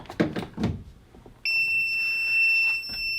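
A primer sentry alarm on an empty progressive reloader sounds a steady, piercing electronic tone that starts abruptly and holds, after some soft handling clatter.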